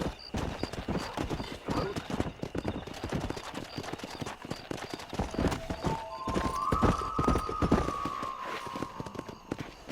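A horse gallops in Red Dead Redemption, rapid close hoofbeats drumming continuously, with a whinny rising near the end.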